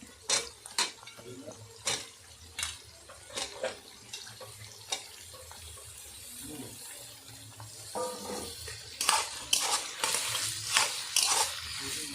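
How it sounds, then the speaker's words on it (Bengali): Three kinds of capsicum and mixed vegetables being stir-fried in a pan for chilli chicken, with scattered close scraping and stirring clatters over a soft, continuous sizzle. "সব সবজিগুলো হালকা ভাজা হয়ে গেছে"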